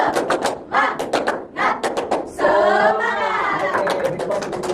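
Classroom students performing a 'tepuk semangat' clapping routine: bursts of quick rhythmic hand claps, then a loud group shout and cheer, close and lively.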